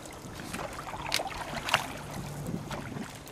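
Paddles dip into a lake as a small boat glides along, with soft splashes and water swishes at an uneven pace over light wind noise, close and fairly quiet with no talking.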